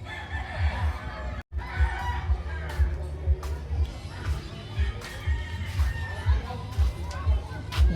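A rooster crows amid a lively crowd at a village fiesta in Sitio Patag, with chatter and voices of people talking throughout around the birds.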